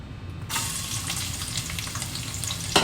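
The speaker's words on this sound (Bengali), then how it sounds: "তেলও দিয়ে দিয়েছি এটা গরম হয়ে গেছে এখন আমি কেটে রাখা পেঁয়াজগুলো দিয়ে দেব" Chopped onions go into hot oil in a pot and burst into a loud, steady sizzle after a brief quiet moment, continuing close and unbroken.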